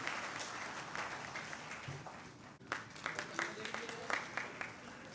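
Audience clapping at a Mohenjo Daro heritage celebration ceremony, moderate applause with scattered claps that swells near the end, heard under someone speaking over a public address.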